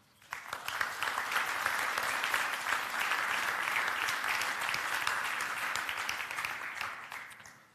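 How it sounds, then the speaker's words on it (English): Conference audience applauding the speakers at a security conference in Belgrade, a sustained crowd clapping that swells in quickly, holds steady and fades toward the end, heard at moderate distance in a large hall. "Please give them a round of applause."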